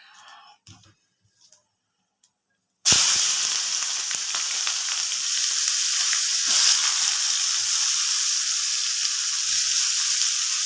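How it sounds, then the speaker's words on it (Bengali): Chopped onions hit hot oil already seasoned with cumin, dried red chillies and asafoetida, bursting into a loud, steady sizzle after a brief quiet start with a few soft clinks, frying continuously up close. "পেঁয়াজটাকে এখন একটু ভাজতে হবে"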